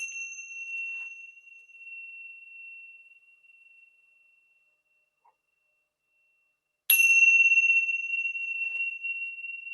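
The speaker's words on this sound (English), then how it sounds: "I'm going to ring the chimes because this is a sacred time" Chimes ring out with a clear sustained metallic tone that slowly fades away. After a stretch of near silence they are struck again with a bright attack and long shimmering decay, with nothing else heard.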